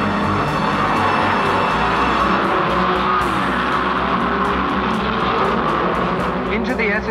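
Shelby Cobra and Ferrari race cars roaring off together at a Le Mans start, a dense, loud wall of engine noise with revving and passing cars throughout, and an announcer's voice talking over it.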